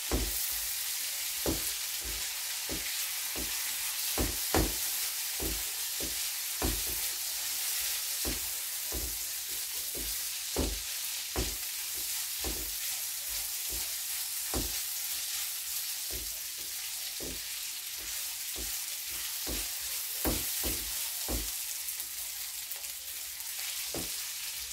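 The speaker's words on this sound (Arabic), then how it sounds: "نقليوه مع هاد الزبدة والزيت والخضار." Rice frying with butter, oil and mixed vegetables keeps up a long, even sizzle, punctuated by regular sharp spoon clicks against the pan.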